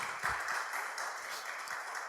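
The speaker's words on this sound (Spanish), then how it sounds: "Dele un aplauso al Señor." Church congregation applauding during a service, a faint, continuous wash of many hands clapping, heard from some distance with no voices on top.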